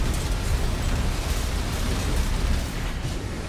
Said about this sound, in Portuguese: perdi rapidinho com essa explosão aí.